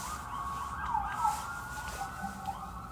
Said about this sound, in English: And I don't think those sirens are going to be going away anytime soon.